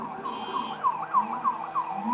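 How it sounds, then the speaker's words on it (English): An emergency vehicle siren outside wails in a steady rising and falling pattern, fairly loud and continuous, with no voices over it. "I apologize for the sirens from outside"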